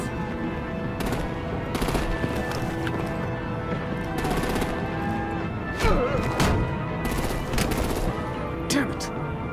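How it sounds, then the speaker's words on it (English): Gunfire erupting during a vehicle confrontation in Batman Telltale The Enemy Within, rapid machine-gun bursts and sharp single shots with crashing impacts, loud and irregular over a constant rumbling background. "Break out the artillery and disable their vehicles!"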